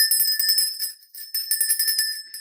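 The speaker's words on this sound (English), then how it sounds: "Let me ring my bell." A small bell rings out in bright, sustained tones, struck repeatedly in a quick rhythm with a brief dip midway, clear and close with no speech.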